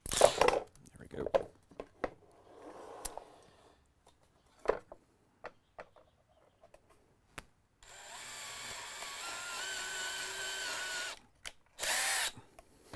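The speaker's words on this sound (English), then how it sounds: "If you hold your chuck in your hand on these drills, you can get it started." Power drill whirring steadily for several seconds in a workshop, loud and close, after scattered knocks and handling clatter, then a short final burst.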